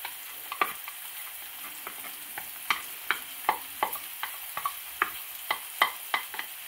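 Shrimp fried rice with peas and bok choy stirring in a hot pan, a steady sizzle broken by repeated sharp scrapes and clacks of a utensil, close and fairly loud, with no talking.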